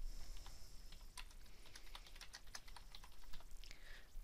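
Rapid clicking of keys on a computer keyboard as a filter name is typed in financial charting software, a steady close patter of keystrokes with no talking.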